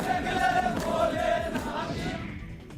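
Dense roar of a large crowd of hundreds gathered around a brawl, steady and loud throughout with overlapping shouts and voices, tapering slightly near the end.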